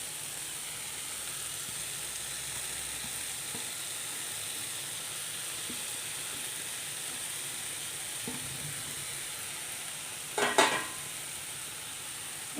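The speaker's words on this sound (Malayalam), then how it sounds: "ഇനി സവാള ഒന്ന് വാടി വരണം" Onions sauté in a pan: a faint, steady sizzling hiss with a few soft knocks, then a brief, sharper scrape of stirring near the end, heard close and without any voices.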